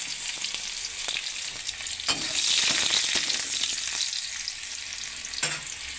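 Onions and bay leaf frying in hot oil with whole spices, a steady close sizzle with occasional stirring scrapes, alone without talk.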